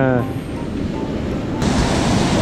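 Ocean surf breaking on a beach near Sendai, where anglers fish for flounder in spring, makes a steady, loud wash of broadband noise. A sharper surge of spray comes near the end, with wind buffeting the microphone.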